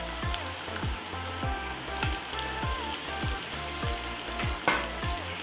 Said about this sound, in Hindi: सेटा के टिके फ्राई कर दमु भल से